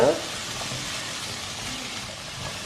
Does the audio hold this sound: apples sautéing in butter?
yes